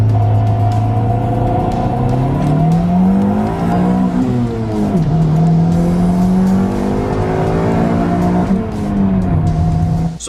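Turbocharged Honda D16 engine revving hard under boost with a loud close drone whose pitch climbs and falls through several pulls, sustained for about ten seconds.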